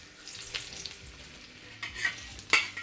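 Young ginger pieces hit hot oil in a wok for a crab vermicelli stir-fry, giving a steady soft sizzle broken by several louder stirring scrapes and crackles, the sharpest near the end.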